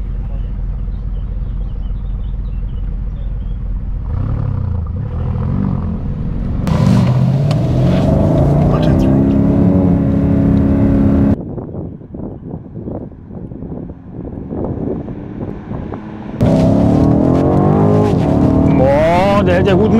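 Alfa Romeo Giulia Quadrifoglio and BMW M850i launching side by side in a drag race, engines roaring loud and close with wind buffeting, then a quieter stretch before another surge of revving; people talk excitedly over it.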